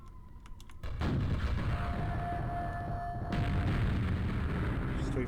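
Gunfire and blasts from enemies in a Quake-style first-person shooter, a dense, loud barrage of shots and booms that bursts in after a quiet moment and keeps going to the end.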